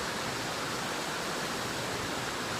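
Turner Falls, a waterfall about 77 feet high, pours in a constant broad hiss of rushing water. The roar is steady and close and fills the whole moment, with no voices.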